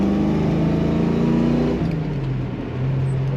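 A 1969 Ford Mustang Fastback engine revs up hard under performance driving, a loud close rising drone that drops as the gear changes and then settles into a steady pull, no talking.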